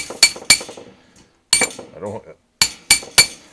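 Hammer blows knocking dents out of a vintage metal seed rack, sharp metallic clanks in three bursts: two quick strikes, a single hit with a clattering rattle after it, then three more strikes near the end.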